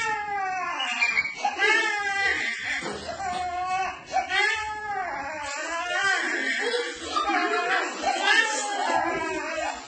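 A human voice imitates a baby crying, producing wavering wailing sobs in repeated rising and falling cries, close and fairly quiet.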